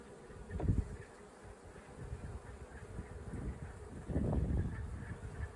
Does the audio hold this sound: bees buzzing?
yes